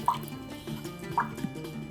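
A cup of water is poured into a pot holding two cups of sugar, giving a close, trickling splash with a few drips, and no talk over it.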